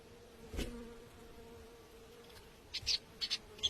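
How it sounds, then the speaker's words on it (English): Flies buzz in short bursts close around a honey badger's nose, a few brief high whines near the end over a quiet background with one soft thump early on. "The cleanup crew even catches the annoying flies buzzing around the badger's nose"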